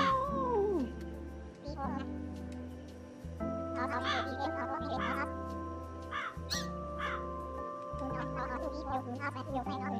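A cat in the game IFC 66 Calico meows, its wavering cries rising and falling over steady background music, with a harsh caw-like call near the start and occasional short chirps.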